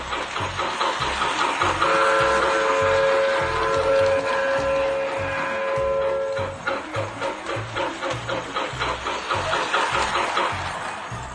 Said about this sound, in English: Here's an old video of the engine running around